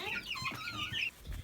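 Laying hens cluck in a farmyard coop, a busy chorus of repeated close clucks and squawks running throughout with no talk over it.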